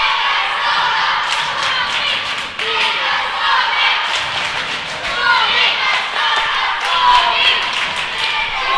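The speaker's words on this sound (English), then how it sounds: "Fans cheering up, probably the most I've seen here all day. They're getting loud." Spectators at an MN Blades versus Finland hockey game cheer and chant loudly, a dense, sustained crowd roar with scattered claps and thuds filling the arena throughout.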